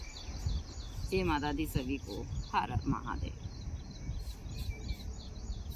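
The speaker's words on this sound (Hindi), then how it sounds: "बहुत ही अच्छी चिड़ियों की चहचहाट की आवाज़ आप सुन सकते हैं" Morning birdsong: faint, repeated high chirps and tweets run through the background while a person speaks in the foreground.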